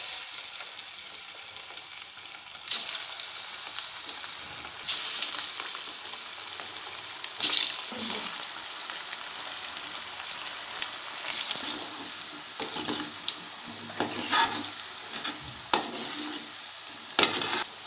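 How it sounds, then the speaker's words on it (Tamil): Cauliflower pakoda pieces deep-fry in hot oil in a kadai, a steady bubbling sizzle with bursts of crackling and occasional stirring clinks, heard up close without speech. "இப்போ நம்ம காலிஃப்ளவர் போட்டு பொரிச்சு எடுத்துக்கலாம்."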